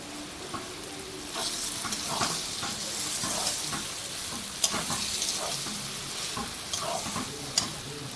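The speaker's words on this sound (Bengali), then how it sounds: "এবার আমি ছোলার ডালটা ঢেলে দেবো এর মধ্যে।" Chana dal poured into fried spices in a pan, stirred and sizzling: a continuous moderate sizzle close by, broken by repeated scraping strokes and a few sharp clinks of the spoon against the pan.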